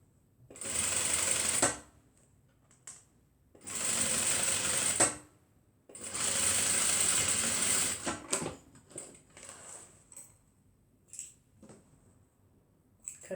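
Sewing machine stitching a tote bag, running in three steady bursts of a couple of seconds each, then short stops and starts with small clicks and handling noises, close and clear.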